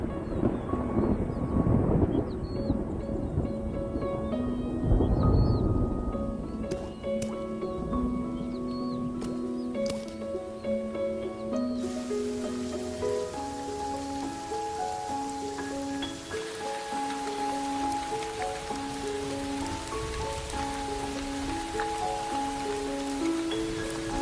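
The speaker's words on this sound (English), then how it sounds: "After months of drought and struggle, the rains finally arrive." A thunderstorm breaks after a long drought on the hyenas' savanna, with rain hissing steadily on the ground, low rumbling thunder and gusts of wind, later joined by a soft, flowing musical score.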